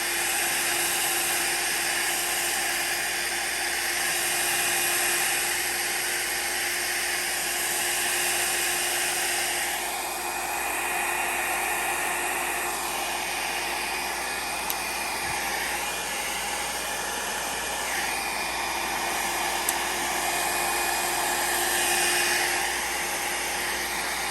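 A heat dryer on high blows over alcohol ink on yupo paper, a loud continuous whirring hum with a steady tone that shifts slightly as it moves, running alone for over twenty seconds.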